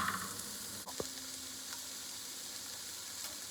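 Vegetables with garlic sizzle steadily in a hot pan, a close and even hiss broken by a couple of brief clicks from stirring, with no voices.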